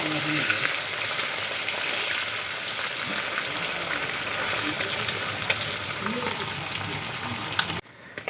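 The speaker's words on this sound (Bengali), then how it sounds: "মাছগুলো এক সাইড ভাজা হয়ে গেছে মাছগুলো উল্টিয়ে দেব" Parshe fish fry in hot oil with a dense, continuous close sizzle and spitting crackle, with a few soft stirring touches, before the sound cuts down abruptly near the end, with no talk.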